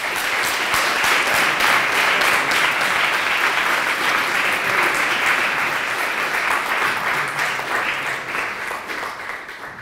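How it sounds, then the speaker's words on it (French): A French audience at the Coupe Francilienne final applauds a speaker named Guillaume, giving ten seconds of loud, sustained, even clapping that thins slightly toward the end. "Vous pouvez l'applaudir. Guillaume!"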